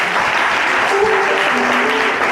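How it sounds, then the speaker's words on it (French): Loud, continuous applause from an audience cheering a young drummer at a music camp, with a voice or two briefly audible within the clapping. "Je vous demande d'applaudir très fort pour ce"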